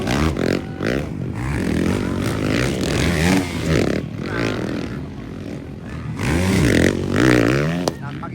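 Yamaha motorcycle engines rev loudly during a race heat, their pitch rising and falling in repeated sweeps with some clattering, under excited commentary.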